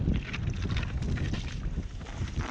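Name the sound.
west wind blowing on a frozen lake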